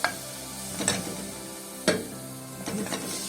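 Chopped onion with salt, cumin and coriander sautéing in a spoonful of oil in a pot, a soft steady sizzle broken by a few louder scrapes and clinks of stirring.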